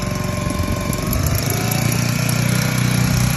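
A 5hp 82cc four-stroke air-cooled petrol outboard motor runs at full throttle, a loud, steady buzzing engine drone close to the microphone that rises slightly midway and holds constant.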